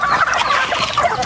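Loud, dense clucking and gabbling from a crowd of native chickens and geese, close by, continuous throughout with no talking.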